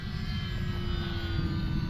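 Arrows RC Skycruiser model airplane in flight, its electric motor giving a steady, fairly close whine with a constant pitch throughout.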